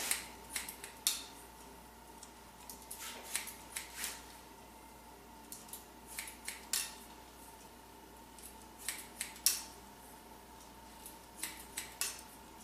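Scissors snipping through a boy's long hair during a short haircut, a steady run of crisp, close cuts in irregular bursts over a quiet room hum, with no talking.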